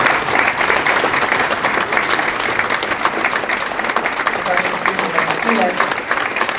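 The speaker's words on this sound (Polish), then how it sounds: "Bardzo wielkie brawa, pan Władysław Kristen" Sustained, dense applause from a large crowd at an awards gala fills the whole stretch at an even, steady volume.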